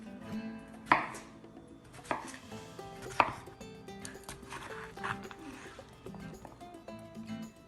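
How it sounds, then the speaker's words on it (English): A knife chops through cucumber on a cutting board, a few sharp thuds followed by quicker light taps, close up, with soft music underneath. "Now that our cucumber is peeled, I'm going to start chopping it up."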